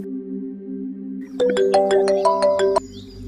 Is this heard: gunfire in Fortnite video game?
no